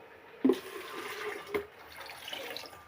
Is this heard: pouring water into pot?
yes